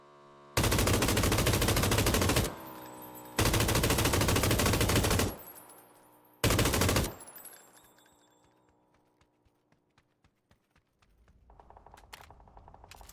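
Light machine gun fire in the PUBG video game: three long, loud, rapid bursts of automatic shots, separated by short gaps, followed by faint scattered noises and a low hum.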